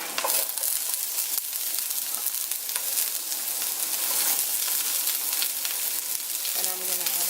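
Onions go into a pan already frying with garlic and ginger for cauliflower fried rice, producing a loud, continuous, close sizzle dotted with sharp crackles and pops throughout.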